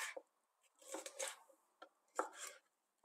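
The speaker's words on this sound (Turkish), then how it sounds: "Kapya biberlerimizi de orta incelikte jülyen olarak doğruyoruz." Knife chopping capia peppers into medium julienne strips on a board, short bursts of quick cuts separated by silent pauses, close and fairly soft.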